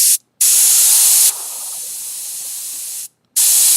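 Airbrush-style paint spraying onto glass gives a close, steady hiss in bursts, cutting off briefly twice and dropping to a softer spray in the middle.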